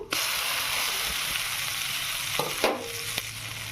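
Grated raw mango frying in oil for mango pulihora, a steady close sizzle running throughout with a few soft utensil clicks near the end.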